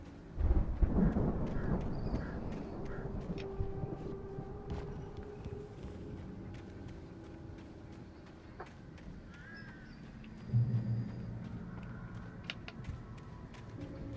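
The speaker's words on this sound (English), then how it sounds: "The storm raged on" A thunderstorm in the Alan Wake video game rumbles low and distant, with rolling thunder near the start and again later over steady wind and rain noise, fairly faint overall.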